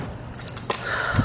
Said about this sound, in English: Got my keys.